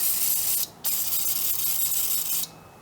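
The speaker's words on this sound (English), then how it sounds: "I'm going to squirt a little PB blaster in here so hopefully it gets into those threads" PB Blaster penetrating oil is sprayed onto the wheel hub bolts of a Chevy Suburban in two close hissing bursts, loud and near, separated by a brief pause.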